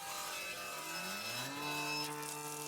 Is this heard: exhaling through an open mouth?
no